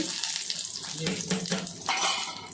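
Shallots, mustard seeds, a dried red chili and curry leaves fry in hot oil for a coconut-free chutney tempering, giving a steady close crackling sizzle with brief stirring scrapes.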